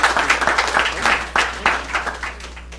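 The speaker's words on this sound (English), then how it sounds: "Let's give them a big round of applause." Short burst of applause at a North Miami Beach council meeting honoring youth league champions, close, uneven clapping with distinct individual claps fading over about three seconds over a low steady hum.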